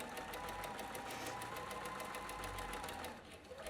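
A sewing machine runs steadily and close, top-stitching a coin pocket on a pair of jeans with a fast, even needle rhythm that slows slightly at the end.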